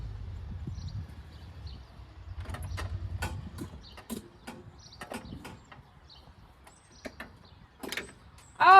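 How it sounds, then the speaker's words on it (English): Someone up a ladder works a camper door open: a run of sharp clicks, latch clunks and knocks, irregular and close, ending in a louder mechanical snap, with no one speaking. "I'm going to climb this ladder and see if I can get the door open."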